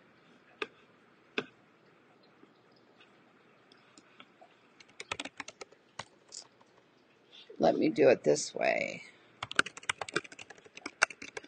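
Keystrokes on a computer keyboard typing a search into Google, sparse clicks at first, then a quick burst of typing, with someone speaking briefly over it.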